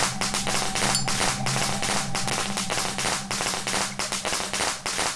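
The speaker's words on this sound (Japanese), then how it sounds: "これ爆竹" Firecrackers going off in the Switch version of the horror game Shadow Corridor: a dense, continuous crackle of sharp pops and snaps, loud and close, running for about five seconds with no voices.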